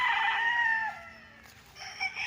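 A rooster crows close by on a fenced farm lot in Liliw, Laguna, one long drawn-out call followed by a shorter cluck-like sound from the flock.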